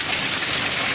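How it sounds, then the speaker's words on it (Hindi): Heavy rain comes down in a loud, continuous hiss that fills the whole moment, with no voices over it. "हम बहुत एंजॉय कर रहे हैं इस बारिश को"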